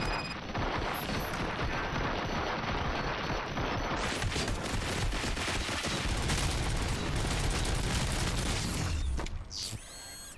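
Sustained rapid gunfire in RoboCop: Rogue City, a dense unbroken rattle of shots with mechanical clatter running for most of the stretch, close and steady before cutting off near the end.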